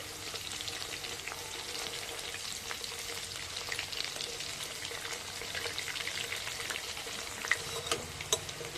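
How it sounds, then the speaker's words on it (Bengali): Prawns fry in hot oil in a wok over low heat, giving a steady, fairly quiet sizzle with scattered crackles and pops as they are turned, and no voices. "হালকা আঁচে একটু সময় ধরে এগুলোকে উল্টে পাল্টে ভেজে নিতে হবে"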